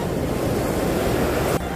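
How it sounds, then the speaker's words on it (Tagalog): Ocean waves wash in a steady, roaring rush, with wind buffeting the microphone, loud and continuous throughout. "Nadadali pa ako ng alon."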